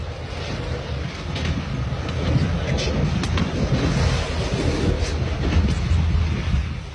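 Moving train crossing Yugoslavia, heard from inside a carriage as a heavy, continuous low rumble with faint scattered rail clicks over the top.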